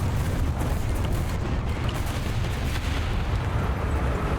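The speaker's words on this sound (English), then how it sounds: "I was right to drop artillery next to the point where I marked" An artillery strike lands in the War Thunder tank game, heard as dense, rumbling booms and low blasts rolling continuously with no clear gaps between impacts.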